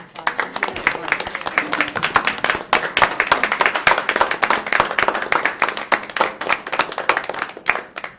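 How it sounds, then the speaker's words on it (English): Board meeting audience gives a round of applause, dense steady clapping from many hands, close and loud throughout with a faint voice now and then. "I just one more round of applause"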